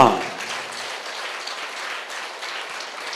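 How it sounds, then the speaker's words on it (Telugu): An audience claps in sustained, dense applause at a gathering at a pyramid meditation centre's anniversary festival. A brief voice is heard at the very start, then steady clapping fills the rest. "గట్టిగా గట్టిగా గట్టిగా చప్పట్లతో ధన్యవాదాలు తెలియజేద్దాం"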